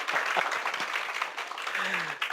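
An audience at an India program gathering at Pravasi Bhawan claps after a spirited address, a continuous moderate round of applause with a few sharper claps and a brief voice near the end.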